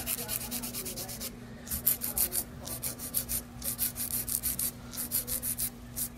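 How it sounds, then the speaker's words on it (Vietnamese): A nail file rasps gently back and forth, shaping a long stiletto nail into a sharp point for an ombré set, in steady rhythmic strokes up close with no talking. "thấy tình yêu giũa nhẹ nhàng đó, mà nó ra nhọn đẹp đó"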